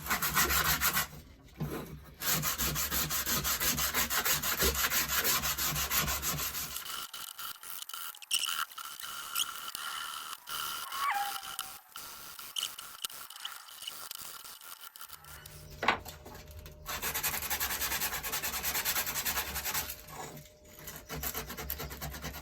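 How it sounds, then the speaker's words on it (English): Hand sanding a shaped wooden guitar part, a close, steady scratchy rubbing in long strokes, pausing in the middle with quieter scrapes before resuming. "It just needs a bit of hand sanding now on it."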